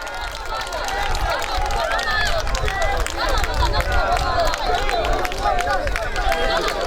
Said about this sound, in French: une foule impressionnante s'était rassemblée pour l'accueillir, scandant à l'unisson des slogans en signe de soutien